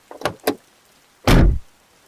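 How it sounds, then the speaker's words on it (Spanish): A car door clicks and rattles twice as it opens, followed by a louder, fuller thump, heard close and alone in a quiet setting. "Abrí la puerta"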